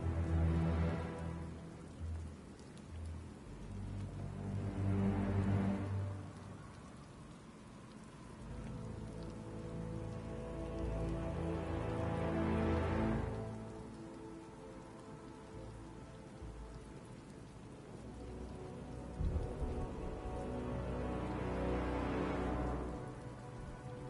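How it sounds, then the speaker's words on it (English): Steady rain falls and patters on surfaces, swelling and easing in slow waves across the whole stretch, with no voices. "What's with all the rain?"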